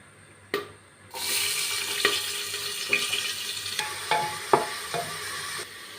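Sliced onions drop into hot oil already spiced with cloves, cinnamon and cardamom, bursting into a loud sizzle after a sharp knock, then frying steadily with scattered spatula scrapes and pops, close up, with no speech.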